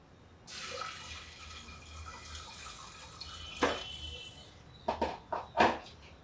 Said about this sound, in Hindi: अब इसमें हम डाल देते हैं थोड़ा पानी